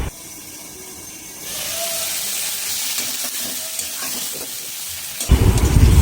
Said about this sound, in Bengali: চিচিঙ্গাগুলা আস্তে আস্তে ভাজি হবে।